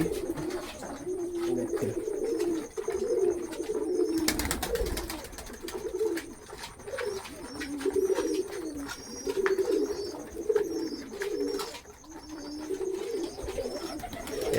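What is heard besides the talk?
loft king pigeons cooing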